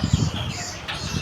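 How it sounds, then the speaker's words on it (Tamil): A pigeon at a bird park gives a few low, soft coos close by, set against a faint outdoor background with no speech. "புறா புறா."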